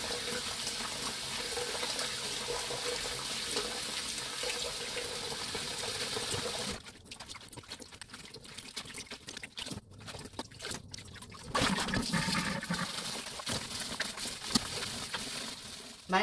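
Tap water running steadily into a sink while mugwort is washed for a rice-flour steamed cake, a continuous soft splashing that dips quieter midway and then swells again.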